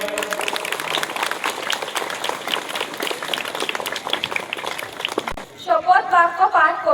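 A crowd at a school sports meet in Nanoor applauds dignitaries, with steady, moderately loud clapping that fades before a voice speaks over a loudspeaker at the end.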